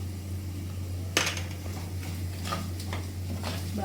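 A spoon stirs turmeric into softened onions in a pan, with a few light scraping clinks and taps over a steady low hum.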